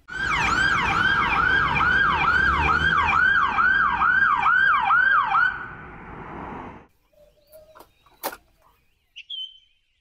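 A police car siren wails in rapid repeating up-and-down sweeps, loud and close for several seconds, then cuts off, leaving faint scattered clicks and a bird chirp.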